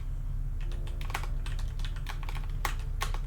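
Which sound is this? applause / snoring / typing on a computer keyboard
typing on a computer keyboard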